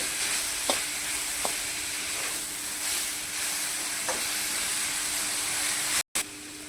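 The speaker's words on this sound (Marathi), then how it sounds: "परतून घे चांगलं." Vegetables and chopped spring onions being stir-fried for Chinese veg noodles give a steady close sizzle, and a few sharp scrapes of the spatula against the pan break through it. There is a very brief dropout near the end.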